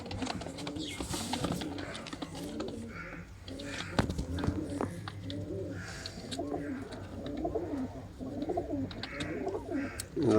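A Rampuri female pigeon coos in soft, repeated rolling phrases close by, with other pigeons around. Someone talks over the cooing.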